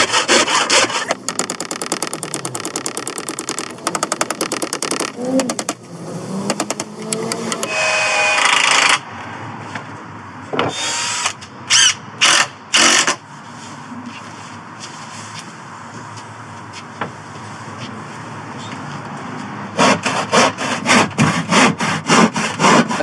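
Plywood is sawn for a car camper bed frame in a Volvo XC90 SUV build, with a loud run of rapid saw strokes, a pause, scattered short cuts, then another burst of fast strokes.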